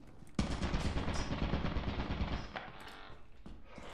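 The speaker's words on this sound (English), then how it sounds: "you can outrun the turrets" Automated turrets firing in the video game Lethal Company, a sudden sustained burst of rapid machine-gun fire lasting about two seconds, loud and close, then tapering off with a short echoing tail.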